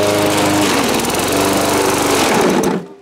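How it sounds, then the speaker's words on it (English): A lawn mower engine runs loud and steady at close range, then cuts off abruptly near the end. "It's lawnmower time."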